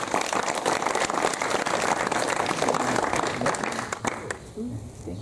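Children in a group applaud together after a teacher's lesson, a dense run of many overlapping claps that tapers off toward the end, with some voices mixed in.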